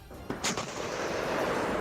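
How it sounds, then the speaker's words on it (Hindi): A tank fires shells in a heavy boom followed by a long, rolling roar that echoes across open ground, loud and close, with no talking. "सबसे पहले टैंक को टारगेट की तरफ घुमाया गया और फिर एक साथ कई राउंड गोले दागे गए, जिसके बाद गोलाबारी की आवाज पूरे इलाके में गूंज उठी"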